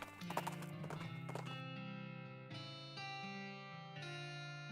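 Horse hooves clip-clop in a cartoon Western video game as a cowpoke rides her horse up a steep rocky ridge, a few close hoof knocks followed by sustained, heavily processed tonal notes that ring out alone.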